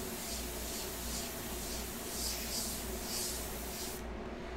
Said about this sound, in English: Let me just spray out the undiluted paint there.